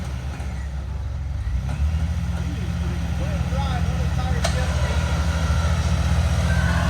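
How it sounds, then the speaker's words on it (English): An off-road vehicle's engine, stuck on a muddy trail with a winch line out, idles low and then revs up steadily in neutral, a loud droning rumble with people talking nearby. "Just put it in neutral and rev it."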